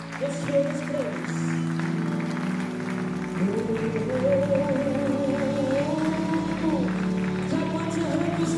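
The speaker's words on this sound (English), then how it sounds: "Why don't you give him a big clap offering this morning?" A church congregation claps steadily through a worship service, the continuous applause mixed with sustained music and a speaking voice, moderately close and even in loudness throughout.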